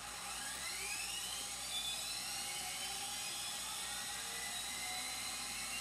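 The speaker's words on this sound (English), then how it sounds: "we got the sound on the rock crusher. Here's how you start it up." An RC Terex Finlay model rock crusher starts up, its electric motor spinning into a steady, high-pitched whirring whine with a rising, sweeping tone and a constant mechanical hum, close and alone.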